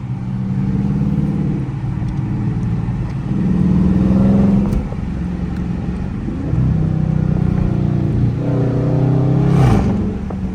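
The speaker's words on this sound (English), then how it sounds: "I know y'all hear that shift. Look, downshift, second gear, pull." A Dodge Charger R/T engine revs, downshifts to second gear and pulls hard, its rumble rising and falling in pitch across several surges, close and loud.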